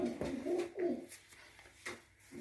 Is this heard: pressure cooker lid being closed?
no